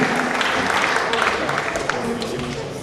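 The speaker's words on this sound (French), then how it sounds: "Je vous demande d'applaudir très fort s'il vous plaît." A crowd applauds loudly and continuously, a dense wash of clapping with cheering voices mixed in throughout.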